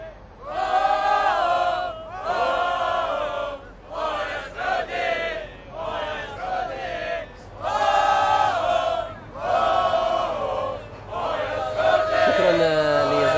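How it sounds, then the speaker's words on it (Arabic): Saudi football fans in a large crowd chant in unison, loud rhythmic bursts of massed voices repeating a phrase about every two seconds, with brief pauses between lines. "احنا بنسمع هزوجة من الجماهير السعودية."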